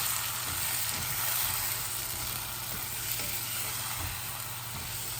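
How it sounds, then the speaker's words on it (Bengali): Chicken being sautéed in a pan, a steady close sizzle and hiss of frying that continues evenly throughout, with no voices. "আর এখন খালি কষাই মুইগুলারে।"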